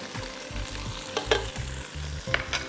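Spices frying in a pan for a Kashmiri sour eggplant dish, a close sizzle broken by quick scraping stirs and a couple of sharp spatters, fairly brief, no talking.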